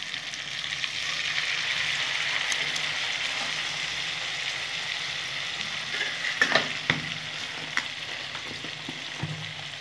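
Spice-rinsing water poured into a hot frying pan for a Bengali egg curry brings a loud, continuous hiss and sizzle, with a few stirring clinks near the end.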